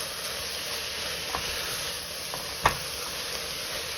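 Vegetables sautéing with red wine in a pan for tomato sauce give a steady, soft sizzle throughout, with a couple of brief clicks or utensil taps along the way.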